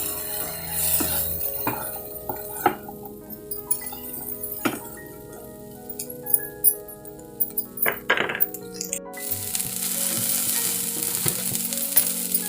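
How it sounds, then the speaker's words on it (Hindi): Green peas fry with cumin powder and spices in a pan, a soft steady sizzle broken by clinks and knocks of a spoon stirring against metal, growing louder toward the end. "आधा चम्मच जीरा पाउडर डाल के इसे 1 मिनट तक मसाले में और मटर को भून लेना है।"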